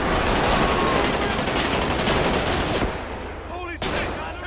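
Automatic rifle fire in GTA 5 with the LSPDFR police mod, a dense, continuous burst of loud gunshots filling the first few seconds, then thinning to scattered shots and echoing reports.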